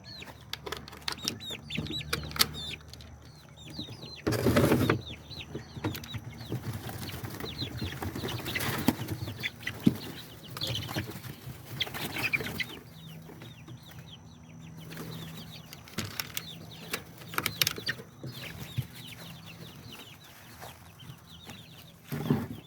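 Young chickens in a temporary coop in late spring, soft scattered peeps and clucks with occasional rustling and a brief burst of wing flapping, faint and close, no talking.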